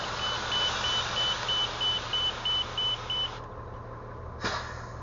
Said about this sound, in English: And there goes Kathy on the bus.